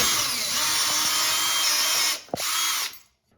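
A power drill whirs steadily while backing screws out of wooden door hinges, a loud continuous high whine that stops briefly, restarts for a short burst, then winds down to silence.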